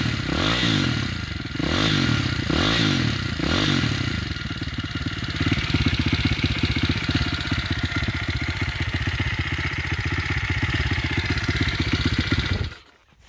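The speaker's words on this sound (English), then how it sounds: "You can actually hear the engine more now." A motorcycle engine idles with a loud, steady, throbbing rumble and some mechanical clatter, with a few rhythmic surges early, then cuts off abruptly at the end.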